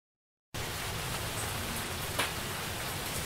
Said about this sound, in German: Der Regen ist recht dominant